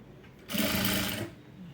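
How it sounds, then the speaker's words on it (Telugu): A sewing machine runs a short, steady burst of about a second while stitching leaf-model piping, humming close by before stopping, with the quiet room around it. "ఇలా మొత్తం కూడా ఇలా నీట్గా స్టిచ్ చేసుకుంటూ వెళ్ళిపోవాలి"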